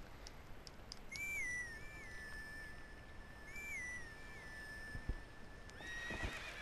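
A horse whinnying in the video game Zelda: Twilight Princess, two clear rising-then-falling neighs with a long sustained tone, plus faint hoof clops, over quiet game ambience.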